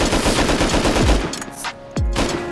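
Bursts of AK rifle fire in Rust, loud and close, rapid shots in a sustained stream that breaks off, followed by a couple of separate heavy single reports with no talk over them.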